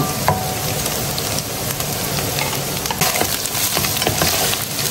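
White onion frying in a pan for Filipino spaghetti, a steady close sizzle with light crackles and occasional stirring clinks throughout.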